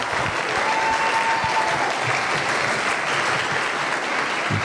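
Students in a parliament session applaud together, a dense, even burst of clapping lasting a few seconds at a steady level.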